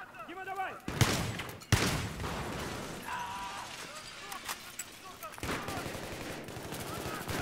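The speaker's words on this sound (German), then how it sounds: "hier wird wieder Dauerbeschuss sein" Sustained gunfire in the Battlefield 3 campaign: sharp close shots and rapid bursts crack over a constant battle din, with someone talking over the fighting.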